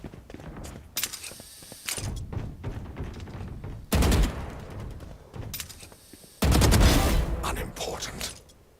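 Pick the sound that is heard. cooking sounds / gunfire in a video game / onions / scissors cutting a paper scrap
gunfire in a video game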